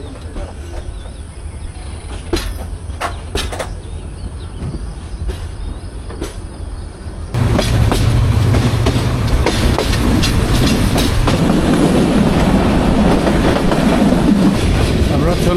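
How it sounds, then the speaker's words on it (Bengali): The Udayan Express rolls past a tea garden, a steady rumble and clatter of wheels that grows louder and fuller about halfway through, with insects chirping faintly in the background. "এই চা বাগানের পাশ দিয়ে আমাদের ট্রেন বেশ ভালোই এগিয়ে যাচ্ছে।"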